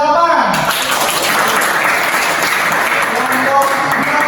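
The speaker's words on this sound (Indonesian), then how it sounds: "tepuk tangan" A class claps for a group's score during a lesson, a short burst of applause from students mixed with chatter and voices that continue over the clapping.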